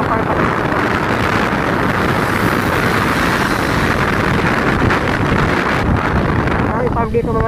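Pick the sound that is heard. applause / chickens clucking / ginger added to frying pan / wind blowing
wind blowing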